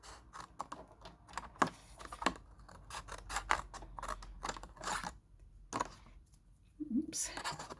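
Scissors snip through paper for a pyramid box in a quick irregular series of close, crisp cuts, with faint rustling of the paper and soft talking around them.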